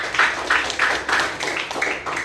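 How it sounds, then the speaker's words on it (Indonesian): Students in a school guidance session give a classmate a round of applause: a group claps in a steady, even rhythm of about seven bursts, close and fairly loud, with no talking over it. "tepuk tangan buat Sarah"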